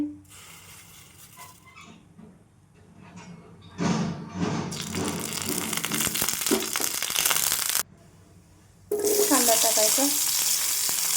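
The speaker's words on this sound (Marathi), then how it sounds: "पुदिना कढीपत्ता लसूण जिरं पेस्ट छान कांदा भाजून घ्यायचा" Onion frying in oil in a kadhai for a Maharashtrian dal and onion dish, a steady crackling sizzle that swells loud midway, drops out briefly, then returns strong with stirring scrapes.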